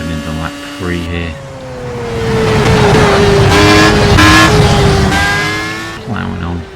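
A Formula A race car engine in the racing video game Project Cars screams through rising and falling gear changes, loud and close, as a driver talks over it.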